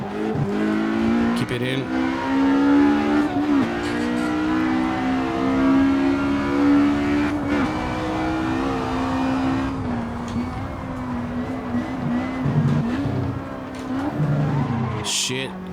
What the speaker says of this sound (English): And the little screamer 4-cylinder in this one